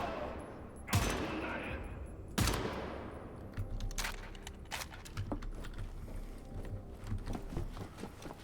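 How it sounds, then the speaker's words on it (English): Gunfire in the Wolfenstein: The New Order video game, with two sharp, loud shots followed by a busy stretch of rattling bursts, clanks and impacts amid game action and low background rumble. "Fucker's shooting me."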